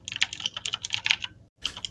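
Rapid typing on a computer keyboard: quick, irregular clicking keystrokes close by, with a brief pause near the end before a few more keys are struck.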